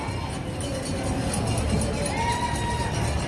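Outdoor crowd noise along the NYC Half Marathon course on a sunny morning, a steady, loud wash of spectators cheering and clapping that holds without a break, mixed with street ambience and some indistinct voices.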